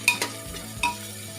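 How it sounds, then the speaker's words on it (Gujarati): Spices sizzle in hot oil while tempering Kathiyawadi-style Gujarati khichdi with curry leaves, green chillies and onion, giving a steady close frying hiss broken by short stirring scrapes. "મીઠું લીમડું બધું નાખીને આપણે વઘાર કરી નાખ્યો છે."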